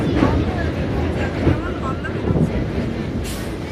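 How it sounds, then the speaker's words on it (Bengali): A train crosses the Kalinarayanpur bridge over the Churni river near Ranaghat, West Bengal, giving a steady, loud rumble with wind noise close to the microphone and faint voices underneath. "ব্রিজ পার হচ্ছে ট্রেন"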